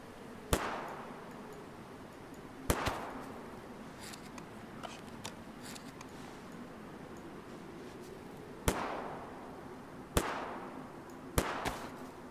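Sharp gunshots from DayZ ring out one at a time at irregular intervals, five loud cracks with short echoing tails over a quiet ambient background, plus a few fainter distant pops.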